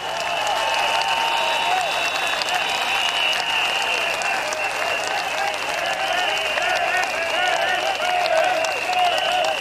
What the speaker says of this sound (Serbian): Molim jedan veliki aplauz.